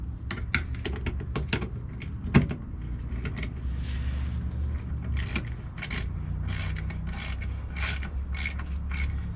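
Ratcheting mechanism tightening bolts on an RV retractable door step, a steady stream of close, rapid metallic clicks and ticks with a few sharper knocks, continuing throughout with no talk.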